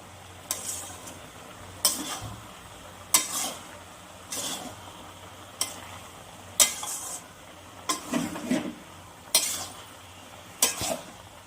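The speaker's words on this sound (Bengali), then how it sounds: "এবার আমি ভালো করে মশলাটা দিয়ে সবজিগুলোকে কষিয়ে নিব।" Vegetables sautéing with spices in a pan for a dry fish curry, a low sizzle broken by regular scraping stirs of a spoon against the pan, roughly one every second or so.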